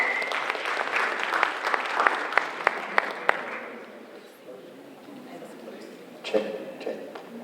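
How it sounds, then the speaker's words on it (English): Applause for young performers at a conference committee kickoff: a crowd claps steadily for a few seconds, then the clapping fades away as a person begins speaking. "Big round of applause for the youth, please."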